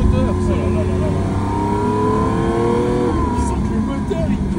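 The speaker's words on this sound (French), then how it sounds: "Là, on a une présence moteur." A Lamborghini Aventador SV engine revs from inside the moving car, its rising and falling harmonic drone loud and continuous while people talk over it.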